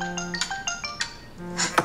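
A telephone ringtone plays in a short melodic electronic pattern, a few bright tones repeating, then a clinking sound near the end.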